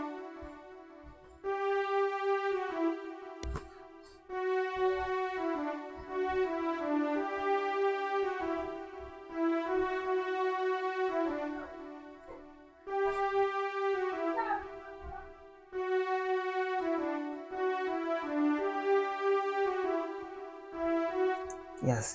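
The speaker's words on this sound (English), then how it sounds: "And I just started with this one orchestra from Cypress." Orchestral melody from the stock Cypress plugin in FL Studio for an Afrobeat-style beat, a simple repeating phrase of sustained notes in several short bars, moderately quiet and alone with no voices.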